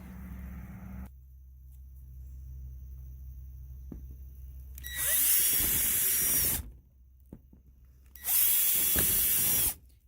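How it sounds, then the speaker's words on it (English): Two bursts of a power drill whining at high speed while pre-drilling holes in plastic greenhouse roof panels, each lasting about two seconds, separated by quiet with faint background hum. "I'm just pre-drilling holes so that I can come back and put all the screws in."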